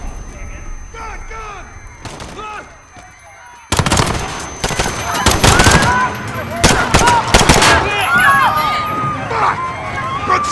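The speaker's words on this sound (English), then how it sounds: "Shots fired." Video game gunfire from Modern Warfare erupts in a street police scene: rapid loud automatic bursts and scattered shots, preceded by quieter moments, with shouting voices mixed throughout.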